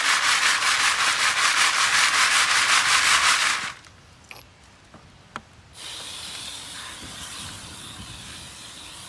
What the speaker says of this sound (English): So I just classify this thing. I try to shake all 3 at the same time.